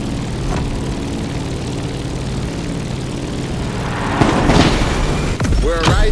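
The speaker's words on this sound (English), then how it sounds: "Let's start our descent and get ready for the landing." An airplane descends toward landing at Honolulu in the racing game The Crew Motorfest: a loud, steady propeller engine drone with a swell and rumble near the end, a voice speaking over the last moments.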